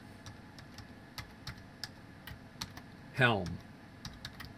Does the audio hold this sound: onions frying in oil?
no